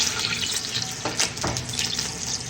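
One kilo of medium-cut beef fries in a cup of ghee inside a pressure cooker, giving a steady close sizzle and hiss with brief stirring scrapes and no talk.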